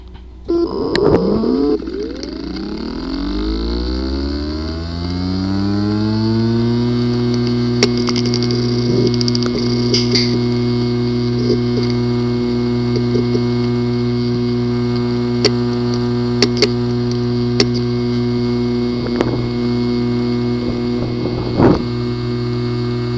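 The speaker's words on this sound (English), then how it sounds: "The following is the sound from one of the hard drive which experienced disk assembly physical damage." A damaged WD Gold datacenter hard drive with physical disk assembly damage spins up with a rising whine that settles into a steady loud hum, broken by faint clicks and ticks throughout.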